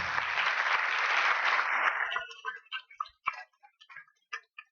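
Applause from an audience at an organizational crisis management talk, a dense steady burst for about two seconds that thins into scattered individual claps and fades out.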